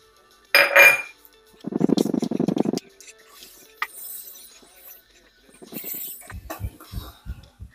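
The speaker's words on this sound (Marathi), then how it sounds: "ढवळून आपण जरा थोड्याशा ज्या काही गुठळ्या असतील त्या आपण मोडून घ्यायच्या" A thick sabudana barfi mixture is stirred in a pan with clinks and metallic scraping of a utensil against the pan, in short bursts and a run of rapid taps, with quiet gaps between.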